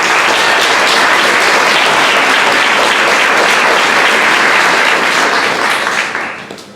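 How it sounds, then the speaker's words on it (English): A crowd at a youth entrepreneur investor panel event gives a loud, full round of applause, thick continuous clapping for several seconds before it tapers off quickly. "Let's give them a round of applause."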